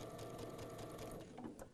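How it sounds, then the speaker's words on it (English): A sewing machine stitches a quarter-inch quilt seam in a steady, close whirring run, slowing and fading near the end. "get my sewing machine set for a 1/4-inch seam"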